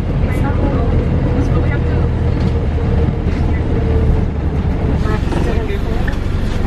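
Interior of a moving city bus in Cork, Ireland: a loud continuous rumble of engine and road noise with rattles, while people talk over it.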